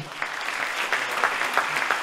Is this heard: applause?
yes